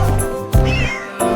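A cat meows loudly and close in two or three short, rising calls, set against a bright, tonal children's jazz song backing.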